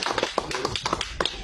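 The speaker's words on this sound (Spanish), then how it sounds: "para el cual pido un fuerte aplauso por su esfuerzo" A few scattered claps from a political rally audience, brief irregular taps standing alone after a call for applause for a teachers' union comrade.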